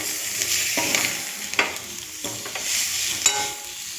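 Fish pieces frying in a pan for chapala pulusu, a continuous sizzle with several stirring scrapes at irregular intervals, close and fairly loud, no voices.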